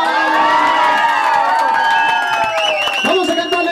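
A family at a birthday mariachi serenade bursts into loud cheering, whoops and clapping, close and lively, with excited children's shouts mixed into the crowd noise.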